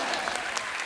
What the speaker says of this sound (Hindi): पलक मुचल जी के लिए जोरदार ताली